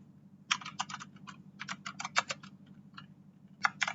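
Router configuration commands typed on a computer keyboard: quick clusters of crisp key clicks with short pauses between bursts, close and clear over a faint hum.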